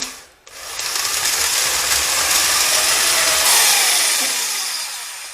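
A drill bores out a threaded hole in the aluminium cylinder head of a Stihl MS230 chainsaw, enlarging it to about 14.4 mm. After a short pause at the start, it makes a loud, continuous grinding whir that runs steadily to the end.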